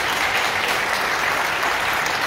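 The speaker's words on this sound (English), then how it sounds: "Another clap, please." Steady, dense clapping from a crowd gathered to celebrate a life, filling the whole stretch evenly and fairly loud with no pause.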